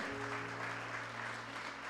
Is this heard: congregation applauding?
yes